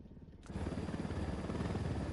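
Helicopter rotor drone from the Ghost Recon Wildlands video game, a steady low whir that swells in at the start and holds loud and continuous, sitting near amid a military compound.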